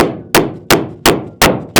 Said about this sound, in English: Yeah, you can hammer that.